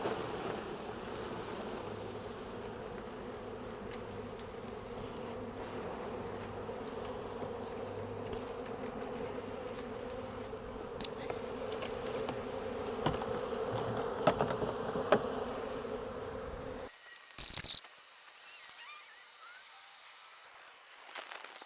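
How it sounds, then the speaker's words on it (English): A dense, steady buzzing of a honeybee swarm fills the air, close by, then cuts off abruptly near the end with a brief burst of noise. "The bees are fairly quickly moving into this box"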